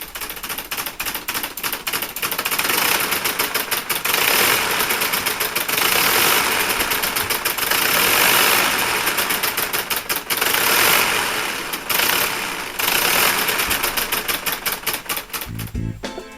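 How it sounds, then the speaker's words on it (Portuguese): A small engine with a golden flywheel runs steadily, giving a fast, even mechanical clatter like rapid ticking that holds throughout, close and loud with no talk. "que usa-se para poder continuar um processo de rotação, como é o caso desse motor,"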